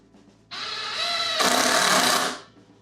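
Power driver whirring steadily as it sinks 2.5-inch screws into a wooden table saw stand, one continuous high-pitched run of about two seconds that rises in pitch partway, close and loud.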